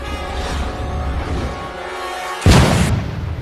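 Diwali firecrackers go off with a single sharp, loud burst about two-thirds of the way through, then a rumbling decay, after a stretch of low outdoor rumble.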